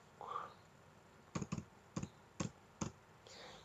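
Computer keyboard typed during a PHP coding tutorial, entering a localhost web address: five sharp, close clicks in two quick pairs and a single, loud against a quiet room.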